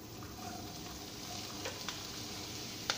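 Finely chopped carrot and capsicum frying in a few tablespoons of hot oil in a wok: a steady, soft sizzle close by, with a couple of faint clicks and a sharper tap near the end.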